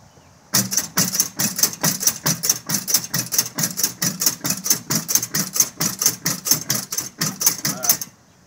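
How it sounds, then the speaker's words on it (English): Starter cranking on a 1978 Chrysler Cordoba in a cold start attempt at around 45 degrees: a rhythmic, loud chugging churn repeating about four times a second for nearly eight seconds, without catching. "Cold start. 78 Chrysler Cordoba. Attempt number one."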